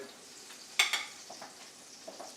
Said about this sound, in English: I can still hear this fish cooking